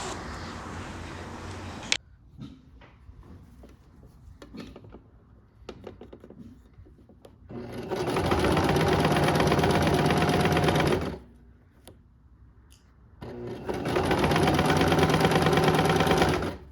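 Sewing machine stitching a crocheted granny-square pillowcase panel, running in two loud sustained bursts of several seconds each, separated by quieter pauses with faint handling and clicks.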